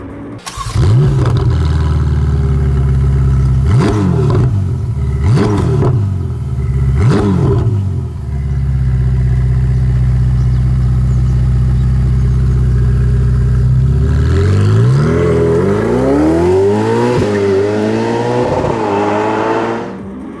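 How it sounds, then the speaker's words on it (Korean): A powerful Ferrari engine blips sharply three times, settles into a steady loud idle, then revs up in rising sweeps, close and alone. "대신 저희가 타봤던 다른 페라리 엔진음을 들어보시죠"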